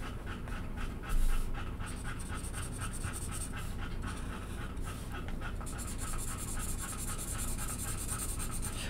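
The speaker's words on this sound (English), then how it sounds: "She's panting so loud." Dog panting loudly and steadily indoors, a rapid rhythmic huffing close by, joined by faint pen scratching and rubbing on paper during a drawing session.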